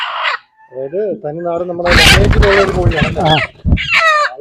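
Native country chickens cluck and squawk close by in a lively flurry, several birds calling over one another with sharp, rising notes and a busy farmyard rustle.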